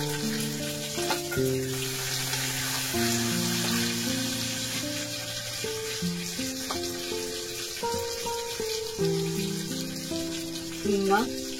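Curry leaves, red chillies, mustard seeds and cumin sizzle steadily in hot oil, a continuous crackling fry beneath background music.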